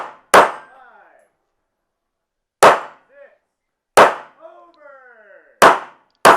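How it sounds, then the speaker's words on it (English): Sharp gunshots ring off steel spinner targets during a practical shooting match stage, four loud cracks spaced a second or two apart, each followed by a metallic clang and ringing decay. "finish these targets off with the last rounds in my mag, which gives me just enough time to get a new mag in, start in on this spinner"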